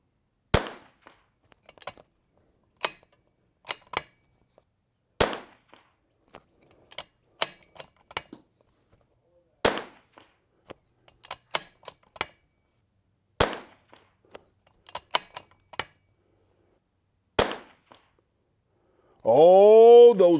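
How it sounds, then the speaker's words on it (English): Sharp, dry rimfire rifle shots using Eley Ultra Gen 2 ammunition fire from an Anschutz 1727F or Vudoo rifle at targets. About nine distinct cracks come at irregular intervals, each followed by faint clicks of bolt handling, and a voice speaks briefly at the end. "We're gonna shoot at the 2-inch target first."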